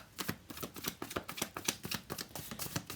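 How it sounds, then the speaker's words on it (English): Tarot cards shuffled by hand, a quick run of crisp riffling flicks and soft slaps in close succession, quiet and near, with no talking. "So I shuffled, and let's see what the cards are bringing."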